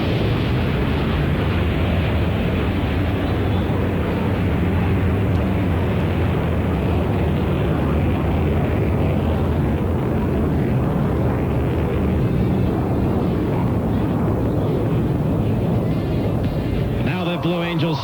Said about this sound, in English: Let's watch as they climb into the vertical to set up for their next maneuver.